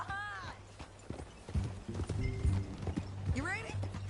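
Horse hooves clip-clop in Red Dead Redemption 2, with a whinny at the start and again near the end, under people talking.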